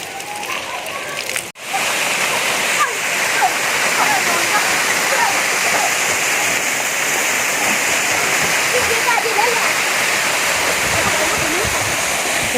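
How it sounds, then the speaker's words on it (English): Big waterfall on a hiking trail, a loud, steady, close rushing roar of falling water that starts abruptly after a short quieter moment and carries on evenly. "this is the final fourth big waterfall"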